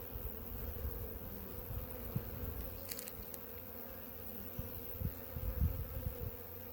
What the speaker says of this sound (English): there are a lot of wasps and other bees hitting this colony now